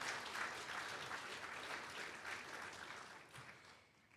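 An audience at a film festival in Belize applauds, a steady wash of clapping that stays even and moderately distant before fading slightly toward the end.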